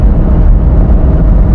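Steady engine drone and road noise of a 1992 Honda Beat small kei sports car cruising at about 60 km/h, loud and continuous with no one talking.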